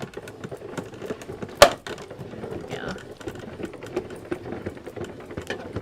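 A 3D embossing folder is cranked through a die-cutting machine, giving a continuous fine mechanical rattle with a single sharp clack partway through, recorded close.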